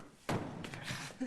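A locked door being kicked: a heavy thud, then a few duller knocks and a final thump, faint and fairly close in an indoor room.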